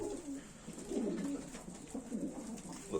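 Pigeons coo steadily in a loft, soft repeated throaty calls overlapping at moderate distance with faint background noise and no talk.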